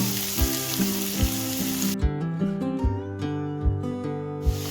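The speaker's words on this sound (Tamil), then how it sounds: "எண்ணெய் காஞ்சிருச்சு. வெங்காயம் போட்டுடலாம்." Chopped onions drop into hot oil for egg podimas and sizzle loudly for the first couple of seconds, then continue under steady background music with rhythmic beats.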